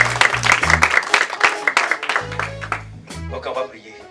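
A church congregation at a French-language prayer gathering claps and cheers in acclaim of the Lord, a dense wash of hand claps mixed with voices and music, loud and close, with speech running through it.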